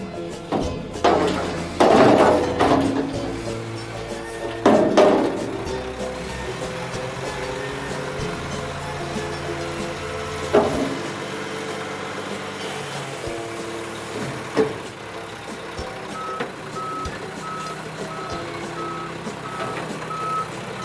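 A garbage truck runs nearby with a rumbling engine, loud clanks and hydraulic bursts early on, scattered knocks later, then steady reversing beeps repeating near the end.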